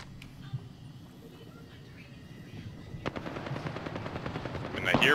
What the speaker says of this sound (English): I hear firing coming from over here